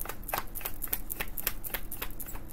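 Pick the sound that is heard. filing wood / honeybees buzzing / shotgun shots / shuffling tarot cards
shuffling tarot cards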